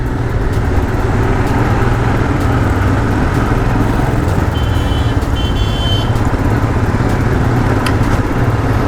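Royal Enfield Himalayan BS4 motorcycle on the move, its engine a steady loud drone throughout with wind and road noise, with a few faint high beeps partway through.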